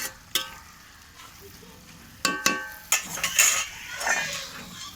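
A metal lid clanks onto a cooking pot of fenugreek greens in a pan. Several sharp clinks ring out over a soft sizzle and stirring noise, and someone speaks faintly nearby.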